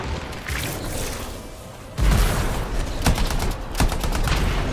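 Rapid bursts of weapon fire from the Anthem video game, loud and close, with a sharp onset of repeated shots about halfway through and dense crackling volleys continuing to the end.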